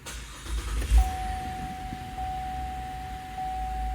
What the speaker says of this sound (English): And start our vehicle